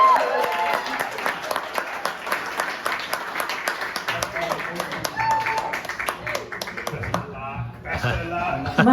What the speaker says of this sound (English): If we can please get a round of applause for Judith.